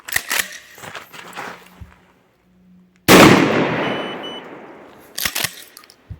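Two sharp rifle shots during a gunpowder load test, one loud blast with a long ringing decay midway, then a shorter crack near the end, separated by quiet handling noise.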